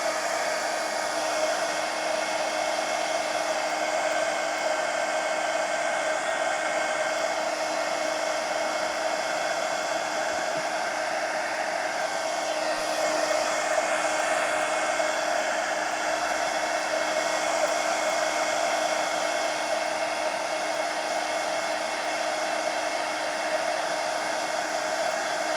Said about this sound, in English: I'll make sure it's good and dry so I don't drag my arm through any of the splots.